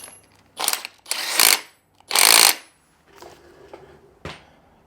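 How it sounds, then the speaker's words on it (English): An impact wrench fires in several short loud hammering bursts, tightening the bolt on a Ferrari F355 timing belt pulley, with quieter ratcheting clicks and a final sharp rattle close by. "we're just hit it with our impact and that'll be good enough"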